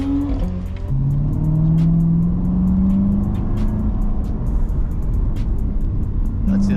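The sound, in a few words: motorcycles passing by on a canyon drive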